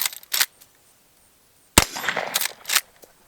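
Henry Big Boy color case hardened carbine fired outdoors, a single sharp close crack standing out from faint rustling and soft handling clatter before and after.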